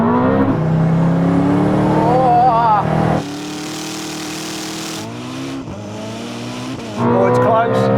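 A Bugatti Divo and a Koenigsegg Jesko in a rolling drag race: loud, close engine roar with rising revs and gear changes, a dip in level midway, then the roar surges back at the end.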